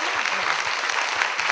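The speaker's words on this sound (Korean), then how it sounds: "박수 한번 주세요." A studio audience at a Korean talk show claps together in a short, lively burst, dense and close, with a few sharper claps poking through.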